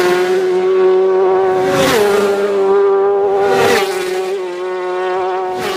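A racing motorcycle engine holds a loud, steady high-pitched tone close by, with two rising revving surges and no talk over it.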